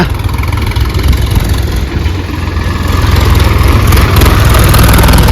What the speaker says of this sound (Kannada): ಟ್ರ್ಯಾಕ್ಟರ್ ನೋಡಿ ಟ್ರ್ಯಾಕ್ಟ್ರ